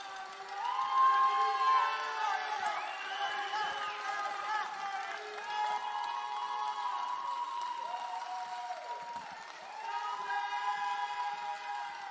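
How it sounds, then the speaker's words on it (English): A large crowd at the Miss Grand United States 2023 pageant final applauds and cheers steadily, a distant wash of clapping and shouts under sustained musical tones. "Let's welcome them with a big round of applause"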